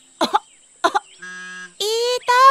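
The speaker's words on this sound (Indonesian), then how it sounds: "Ih, Tommy, kalau batuk ditutup mulutnya dong." A child named Tommy coughs twice in short, sharp bursts, followed by drawn-out voiced, tonal sounds in a children's series setting.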